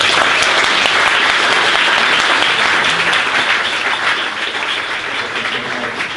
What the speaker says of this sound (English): Another round of applause for Steinitz